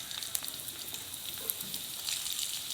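Chopped garlic and small chopped onion frying in hot mustard oil, a steady close sizzle with faint crackles and occasional soft stirring taps.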